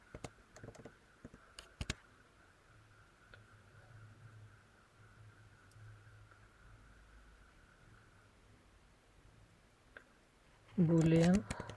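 Several light keystrokes tap on a computer keyboard while a command is typed into a terminal, a quick cluster up front and a few more later under a faint hum, followed by a burst of speech at the end.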